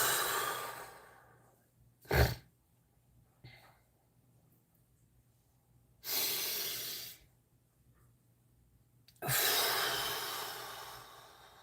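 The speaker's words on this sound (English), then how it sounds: "let's take a nice deep breath" Three slow, deep breaths heard alone in a quiet room: a short sharp inhale early on, then two long, broad airy breaths, each lasting about a second, clear and close.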